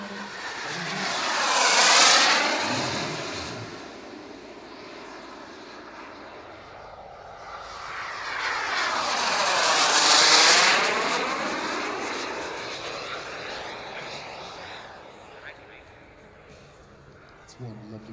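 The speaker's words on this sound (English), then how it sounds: "Wonderful MiG-17. On display from CARF." A CARF Models MiG-17 radio-controlled jet model makes two passes at an RC airshow in Weston Park, its turbine whine swelling loud and then fading as it flies by. A commentator talks throughout.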